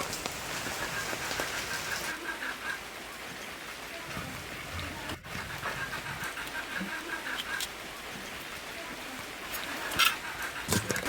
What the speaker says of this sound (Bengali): চারিদিকে দেখেন বৃষ্টি পড়তেছে